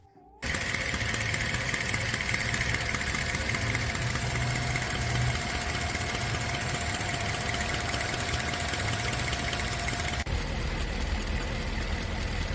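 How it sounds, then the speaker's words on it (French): A 2011 Chevrolet Tahoe idles with a steady engine hum and a persistent rapid ticking caused by loose spark plugs, heard up close and continuous for the whole stretch. "Ce Tahoe 2011 est venu pour un bruit de cliquetis au ralenti"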